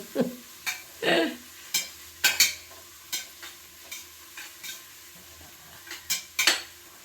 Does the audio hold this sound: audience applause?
no